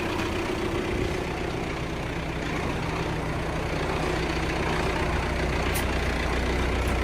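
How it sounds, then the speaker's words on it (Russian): A Belarus tractor's diesel engine runs steadily at idle after starting, a constant low rumble that stays loud and unbroken throughout with no talking. "Завели трактор."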